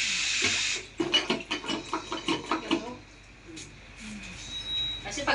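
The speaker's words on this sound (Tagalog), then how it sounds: "Lagyan ko pa ng konting tubig." Water is poured in a brief splashing burst into a pot of simmering Filipino igado, pork and liver stew, followed by clinks and shuffling of cooking utensils and faint background voices.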